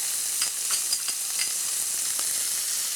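Onions fry in olive oil in a pan for shrimp saganaki, a close, steady sizzle with light crackles and a few faint stirring taps, and no one speaking.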